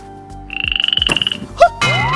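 Cartoonish frog croaking effect on a Malayalam TV comedy show, a rapid rattling croak train of about twenty pulses followed by a short boing-like squeak and a rising slide, loud and without talk.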